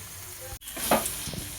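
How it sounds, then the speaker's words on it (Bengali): Boiled potato being stirred with spices in a pan for a raw mango chop, a soft sizzle with a sharp scrape near the middle followed by brief stirring clatter, fairly quiet. "এবার আমি ভালো করে এরকমভাবে নাড়তে চাড়তে থাকবো"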